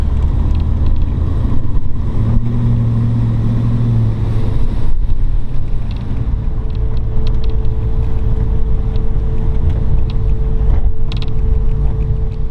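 A 1939 Ford Deluxe Tudor with a 401 Nailhead V8 drives along, its engine rumbling low and steady throughout, with creaks and rattles from the body on top and a brief rise in engine note early on.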